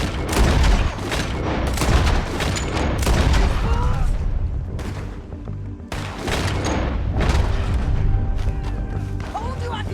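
A Red Dead Redemption 2 shootout among rocks: dense, rolling volleys of gunfire crack and boom almost continuously, with a short lull partway through before the barrage picks up again, loud and close, with voices speaking over the fighting.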